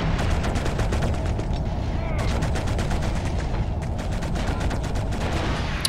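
Sustained automatic gunfire in Killzone on PS2, rapid evenly spaced shots crackling loud and close, with a brief pause partway before firing resumes.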